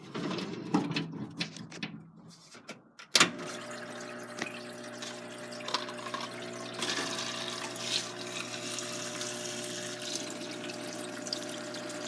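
Varsol solvent pours into a small cup, starting with a few scattered splashes and then settling into a steady close trickling stream that continues for several seconds, with no one speaking.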